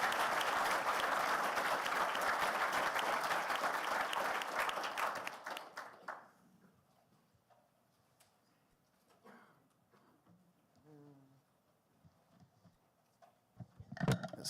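Conference audience at a security convention's closing session gives a loud, sustained round of applause that fades out after about six seconds, leaving a quiet room with a brief voice and some shuffling.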